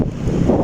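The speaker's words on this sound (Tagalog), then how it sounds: "Mahangin sa area." Steady wind gusting at San Felipe beach in Zambales, a loud broadband rumble buffeting the microphone for the whole moment, with no voices.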